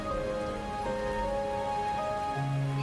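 Steady rain falls continuously at an even level, with a few faint tonal background sounds layered over the patter.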